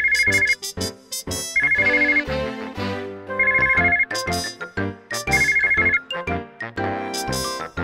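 A phone ringtone plays a repeated electronic melody in four bursts, loud and close, each burst opening with a steady trilling tone before a run of tinkling notes, with no voices present.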